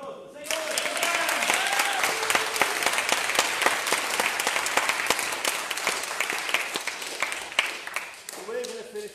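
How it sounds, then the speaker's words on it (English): A church audience at a Christmas concert breaks into sustained applause, a loud, dense clapping that holds steady for several seconds, with a voice speaking over it at the start and the end. "Come on, a round of applause."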